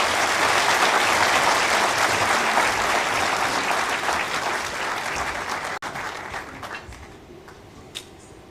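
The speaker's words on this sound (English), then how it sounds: "may I request a big round of applause." An audience of the Indian community in Perth, Australia applauds at a ministerial community event, dense clapping loud at first, then thinning and fading away over several seconds to scattered final claps.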